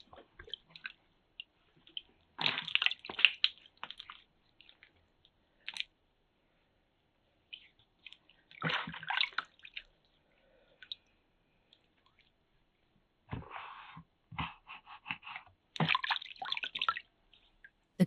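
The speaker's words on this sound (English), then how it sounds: "we find the artist washing her hands carefully in a bowl of water." Hands wash carefully in a bowl of water in a quiet room, giving soft splashes and drips in four separate bursts with silent pauses between them.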